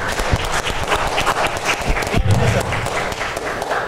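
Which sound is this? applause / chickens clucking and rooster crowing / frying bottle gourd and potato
applause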